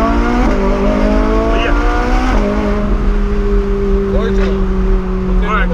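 A Ferrari 458 accelerating hard, its engine note climbing in pitch, dropping at a gear change and then rising again, loud and close throughout.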